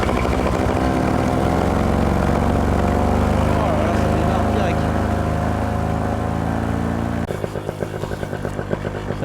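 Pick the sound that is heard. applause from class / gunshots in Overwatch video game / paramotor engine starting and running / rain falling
paramotor engine starting and running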